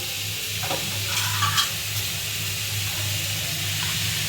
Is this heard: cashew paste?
yes